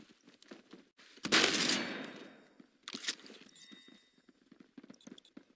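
Remington shotgun firing in the Phantom Forces shooter game, two sharp blasts about two seconds apart, the first louder with a lingering tail, followed by faint game clicks and rattles.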